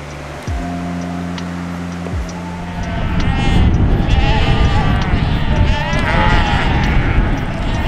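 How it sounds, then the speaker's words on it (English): Sheep bleat close by in the open New Zealand countryside along a hiking trail, a couple of distinct calls early on, then a dense, noisy wash of sound. "It's a sheep break. Surrounded by sheep."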